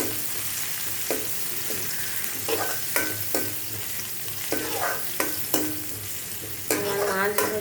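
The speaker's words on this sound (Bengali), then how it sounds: "আজকে কই মাছ ভাজি করছি।" Koi fish frying in oil with cumin, black cumin and onion sizzles loudly and continuously while a utensil scrapes and stirs in repeated sharp strokes, spaced about half a second to a second apart.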